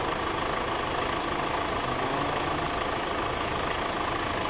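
A 2014 Chevrolet Captiva engine runs steadily with a misfire and a loud injector ticking, giving a dense continuous mechanical rumble and clatter heard up close.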